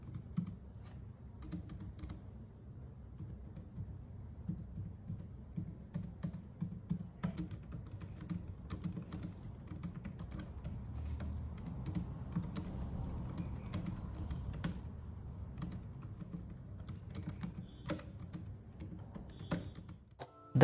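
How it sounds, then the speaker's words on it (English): Steady, soft typing on a Logitech K380 wireless keyboard with rounded low-profile keys, a continuous quiet patter of muted clicks running for about twenty seconds, close up with no talking. "Here is a sample typing test."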